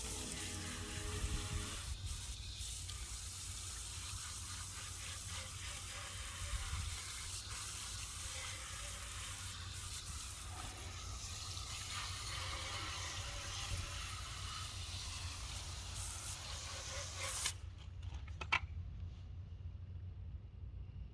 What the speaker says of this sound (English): now we're just gonna go ahead and rinse it off.